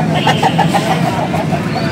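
Rapid clucking from a rooster at the Nellore Sunday poultry market, a noisy outdoor setting, with a faint vehicle rumble and low chatter underneath.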